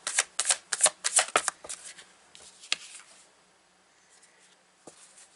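A deck of tarot cards is shuffled close up, quick papery riffling bursts in a rapid run for about two seconds, then a few scattered slides and taps that trail off quietly.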